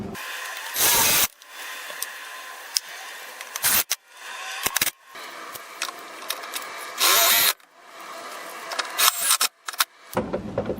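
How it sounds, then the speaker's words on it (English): A power drill drives screws to mount circuit breakers for a trailer brake controller install on a Chevrolet C3500, in about four short, loud whirring bursts with quiet clicks and handling noises between. "so I'm going to go ahead and screw them in"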